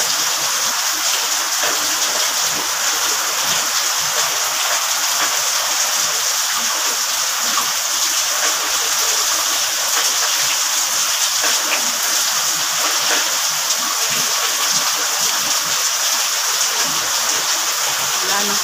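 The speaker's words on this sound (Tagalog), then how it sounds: "May kasama na yung ulan na hangin." Heavy rain driven by strong wind in a typhoon, a steady, dense, hissing roar that stays loud and unbroken throughout, with no voices.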